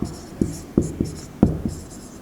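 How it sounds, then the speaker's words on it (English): A pen writes google.com by hand on paper, a series of short scratchy strokes and taps in an uneven rhythm, close and fairly crisp. "I'll write down google.com"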